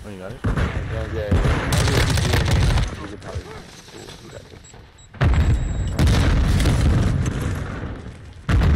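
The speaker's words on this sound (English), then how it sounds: "Flashbang." A flashbang grenade goes off in Modern Warfare II multiplayer, heavy booms and bursts of gunfire in two loud stretches split by a quieter gap, with game voice lines mixed in.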